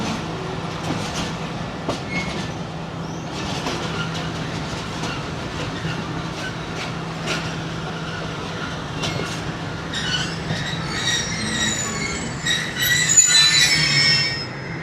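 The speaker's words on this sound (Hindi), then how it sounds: "सामने आ रही है जी 12 डाउन हज़ारा एक्सप्रेस।" The 12 Down Hazara Express passenger train rolls past on the railway, steel wheels squealing sharply over a steady rumble and faint rhythmic clatter, growing louder and brighter near the end.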